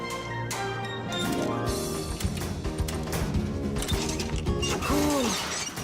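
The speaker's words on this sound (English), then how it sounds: "let's undo the latches, Nolik, quickly." Latches on a cartoon contraption in a snowy Fixies episode come undone with a run of mechanical clicks and ratchet-like clacks, close and fairly loud, mixed with busy musical score throughout.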